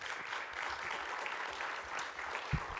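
An audience applauding at a conference opening ceremony, a dense, steady patter of many hands clapping from a crowd, sustained at even loudness with one brief louder thump near the end.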